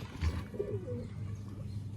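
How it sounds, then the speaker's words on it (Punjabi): Pigeons coo in a village pigeon loft, low soft murmuring calls repeating close by in a steady rumble, with no voices. "ਹੁਣ ਇੱਧਰ ਕਿਹੜਾ ਕਬੂਤਰ ਉੱਡਿਆ"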